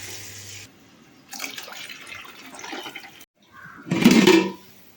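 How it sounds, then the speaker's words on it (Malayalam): Water splashes into a pot in uneven bursts, trickling then gushing, with the loudest, fullest pour near the end; two cups for cooking rice. "രണ്ട് കപ്പ് വെള്ളം ഒഴിച്ച് കൊടുക്കുക"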